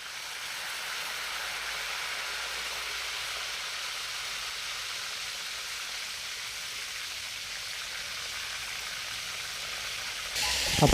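Marinated pork chops fry in hot oil in a pan, a steady, even sizzle like light rain that holds unbroken for the whole stretch, with a brief louder crackle at the very end.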